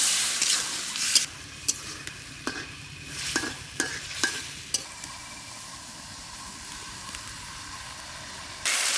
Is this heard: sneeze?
no